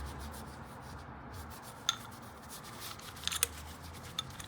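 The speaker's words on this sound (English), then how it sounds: "Clean your upper tube, including the glide pin slots," Soft rubbing and wiping while a OneUp dropper post's upper tube is cleaned, including the glide pin slots, with a few faint scratchy scrapes and small clicks, close and quiet.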